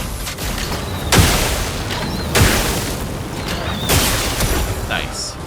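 Sakapata Explosion skill from the video game Clair Obscur: Expedition 33, played on PC: three heavy booming blasts about a second apart over a dense, roaring game soundscape.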